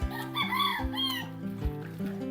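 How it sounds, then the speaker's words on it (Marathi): A hen in a rainy village yard in Konkan gives repeated clucking calls, close and fairly clear, with no voices over it. "कोंबडी पण ओरडते मस्त, तिला पाऊस जास्त लागलाय."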